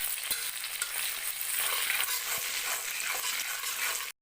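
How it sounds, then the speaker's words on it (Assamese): Onions with panch phoron, cumin and salt frying in a pan give a close, steady, dense sizzle that runs without a break before cutting off abruptly at the end. No one speaks. "এইখিনি মই অলপ ৰঙচুৱা পৰালৈ ভাজি থাকিম"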